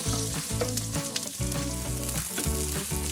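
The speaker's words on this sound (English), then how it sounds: "We're gonna saute some onions and some garlic." Onions and garlic sauté in olive oil and butter, a steady close sizzle running through the whole stretch beneath a loud, rhythmic musical backing with no talking.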